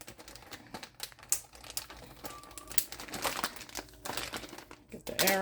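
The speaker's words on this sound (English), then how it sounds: "So let me get a Ziploc bag." Crinkling plastic of a Ziploc bag being zipped shut and squeezed to push the air out, a string of close, sharp crackles and rustles, with one brief high squeak near the end.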